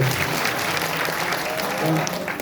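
Audience at an outdoor kirtan at a Shiva temple courtyard claps steadily in a dense, continuous wash of hand claps lasting a couple of seconds, loud and close, with a faint voice under it.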